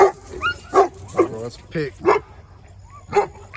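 Boerboel puppy yipping, barking and whimpering in short repeated bursts close by, with a person talking over it.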